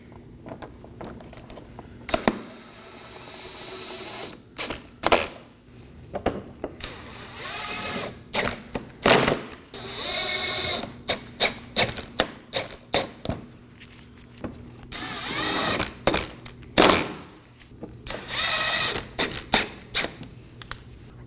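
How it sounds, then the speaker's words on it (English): A ratchet snugs down 10mm fasteners on the front impact absorber of a 2020s Toyota Corolla, with bursts of rapid clicking in repeated short runs, separated by brief pauses and handling knocks, close up. "reinstall our 6 10mm fasteners. Starting at the corners,"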